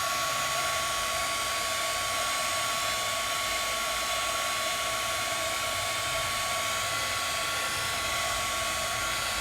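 A heat tool on very low heat blows steadily over embossing on alcohol ink, a loud, unbroken whooshing hum with no other sounds.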